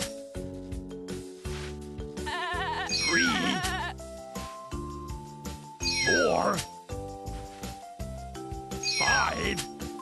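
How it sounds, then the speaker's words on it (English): Cartoon goats bleat in a children's Sesame Street counting game, three loud wavering bleats spaced a few seconds apart over a bouncy musical score with jingling tones. "Oh, look, here come another hungry goat."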